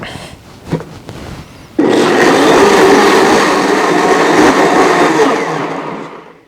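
A blender grinds soaked rice and black sesame seeds with water, starting abruptly after a brief clatter and then roaring steadily and loudly at close range for several seconds before winding down.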